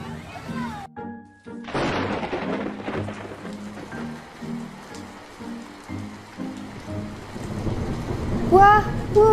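Rain falls steadily with a loud thunderclap early on, followed by a continuous patter while a sustained musical tone plays underneath and a brief chirpy sound appears near the end.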